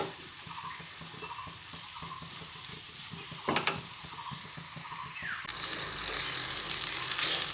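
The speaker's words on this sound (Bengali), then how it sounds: "বাঁধাকপিটা ভাজা হচ্ছে" Cabbage fries with salt and masala in a pan, a steady sizzle under repeated scraping stirs. Around midway a sharp metallic clatter breaks in, and the frying then grows louder and brighter.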